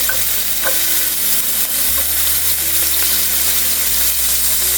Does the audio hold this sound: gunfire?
no